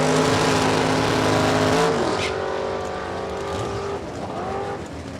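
Drag racing cars at a strip, an orange Chevrolet Malibu and a Chevelle, roaring loudly up close with strong engine harmonics, then the tone drops and fades as they pull away, with a brief higher whine near the end.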